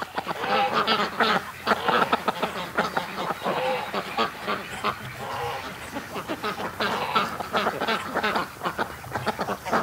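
Canada geese honking loudly and continuously, a dense flock calling in overlapping harsh honks as lines of birds fly over a yard toward a creek, with ducks mixed in.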